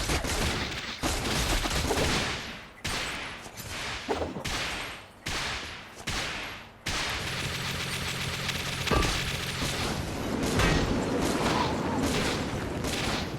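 Rapid gunfire in the mobile game Metal Slug: Awakening during a boss fight, dense bursts of shots with brief gaps, then continuous firing layered over game music and effects.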